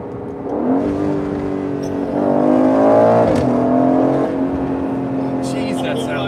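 The exhaust of a 2021 Aston Martin Vantage Roadster revs up to a louder peak in the middle and then settles back to a steady idle-like drone, close by.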